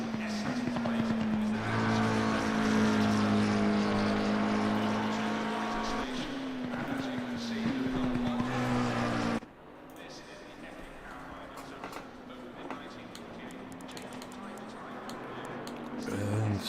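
Race car engines in the sim racing game Assetto Corsa Competizione, GT3 cars including a McLaren at Silverstone, whine loudly and steadily with rising and falling pitch through gear changes, then drop to a quieter engine drone after a sudden cut, under commentary.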